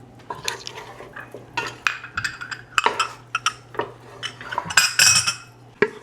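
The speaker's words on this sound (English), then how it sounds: "we're gonna add in our 1/4 cup of oil, and we're gonna evenly coat the potatoes" Cubed potatoes are stirred with a utensil in a bowl to coat them in oil and a salt paste, producing close, irregular scraping and clinking with no talking.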